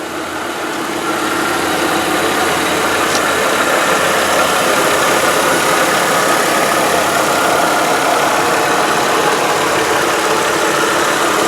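A 1994 Mercedes-Benz E 320 engine idles steadily and loudly up close, a constant rumbling hum that holds even for the whole stretch with no voices.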